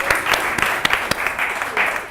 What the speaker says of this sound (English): Sorry, I'm making Claire Mooney clap far too much